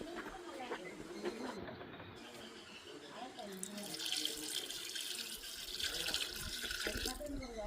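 Water is poured from a tap into a turmeric mixture while cooking, a soft, steady splashing stream with a faint background murmur of voices.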